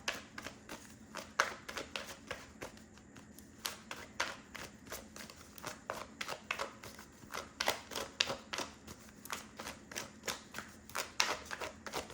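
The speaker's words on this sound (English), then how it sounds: "I'm just over here shuffling the Romance Angel Oracle cards." Oracle cards are shuffled by hand in quick, repeated riffling bursts, crisp slaps and flutters recurring steadily at close range in a quiet room.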